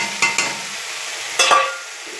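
A paste of green chili, ginger, onion and a little tomato fries in a pan, with a few sharp stir scrapes and bursts of sizzling over a soft steady crackle, close and fairly loud.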